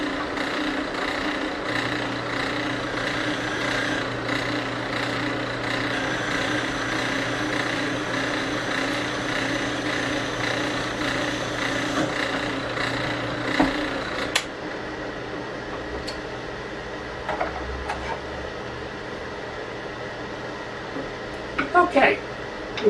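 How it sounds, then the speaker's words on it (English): A drill press runs steadily while drilling a tap hole in a lab, a continuous machine hum and whine that drops off partway, followed by metallic clinks and handling noises. "let's drill for the tap"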